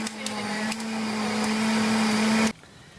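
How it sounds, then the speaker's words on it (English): A kitchen blender switched to high whirs steadily and loudly for about two and a half seconds, a strong motor hum with a bright whine, then cuts off abruptly into near silence. "Oops, gotta put the blender on high,"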